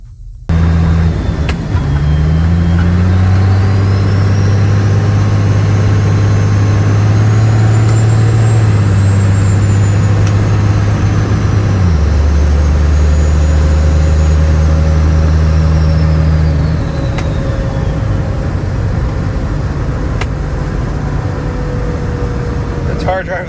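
Truck with a 47RE automatic transmission fitted with a manual valve body and lockup and overdrive switches, driving on the road; a continuous engine drone shifts pitch as it accelerates, with a whining tone rising and falling over the top.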